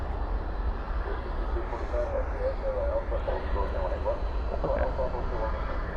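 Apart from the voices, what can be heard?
jet aircraft moving at DFW airport at night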